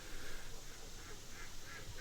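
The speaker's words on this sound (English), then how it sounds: "I have never seen this many geese in one place" A large flock of geese honking continuously at a distance, with layered overlapping calls over a windy outdoor hiss and no talk.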